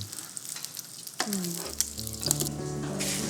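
Korean jeon pancakes sizzle steadily in an oily pan for a Chuseok holiday meal, with a few soft clatters of stirring and flipping over the continuous close frying.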